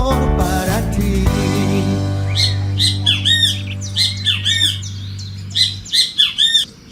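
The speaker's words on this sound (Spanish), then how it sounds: "Qué maravilloso es escuchar este canto de las aves." Birds chirp and squawk in a series of loud, repeated bursts over a steady low hum, the calls growing sharper and more frequent toward the end.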